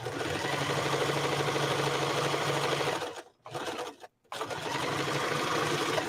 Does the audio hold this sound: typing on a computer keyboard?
no